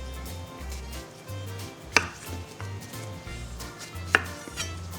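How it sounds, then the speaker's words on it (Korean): A knife cuts through cucumber on a cutting board, two sharp, close knocks about two seconds apart over a low background hum. "이 오이를 반으로 갈라주시는 거예요"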